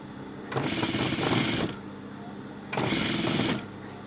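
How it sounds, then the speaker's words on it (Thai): A sewing machine stitches stretched elastic in two separate bursts, each a loud, steady whir of rapid needle strokes lasting about a second, with a pause between them and a faint background hum. "ดึงแล้วปล่อยดึงแล้วปล่อยเย็บเป็นระยะระยะนะคะ"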